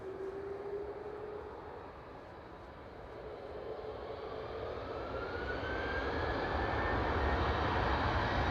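A KLM Airbus A330 airliner roars steadily at Amsterdam Schiphol, its jet engine whine rising in pitch and growing louder as it powers up, a broad continuous rumble with no voices.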